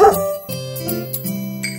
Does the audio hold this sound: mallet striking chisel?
no